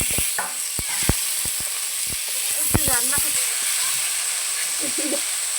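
Loud, steady sizzling of chopped tomato frying in a pan, broken by sharp scraping and clicks of a utensil stirring, with faint bird chirps in the background.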